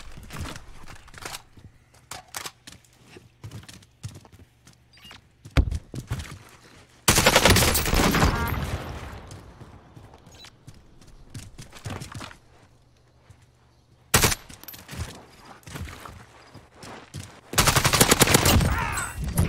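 Bursts of automatic gunfire from a PPSh in Call of Duty: Warzone, with scattered single shots and footsteps between two long, loud, rapid volleys that sound close.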